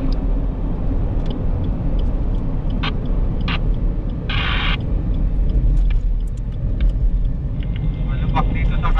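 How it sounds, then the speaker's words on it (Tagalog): Road traffic with trucks passing on a road in Batangas, heard as a continuous loud rumble of engines and tires from inside a moving vehicle while people talk over it. "Puro truck."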